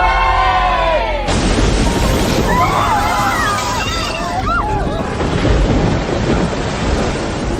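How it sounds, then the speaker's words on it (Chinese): A typhoon storm arriving by the sea: a sudden roaring rush of wind and heavy rain with sloshing water that holds loud and steady throughout, while people shout over it. "是台风，台风真的来了！"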